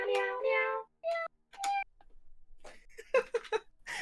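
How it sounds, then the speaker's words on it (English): A cat piano plays meow sounds as notes, with a couple of clear, close, tuneful meows at the start, then more choppy meow tones mixed with a voice talking. "I need to start making some music with this cat piano"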